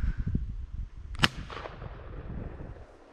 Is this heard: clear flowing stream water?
no